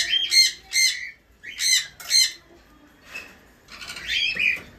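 Parrots in a breeding aviary housing sun conures, cockatiels and lovebirds give harsh, shrill squawks in short bursts, pausing between calls, close and loud with no other sound beneath.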